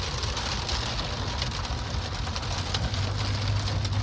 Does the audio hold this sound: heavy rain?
yes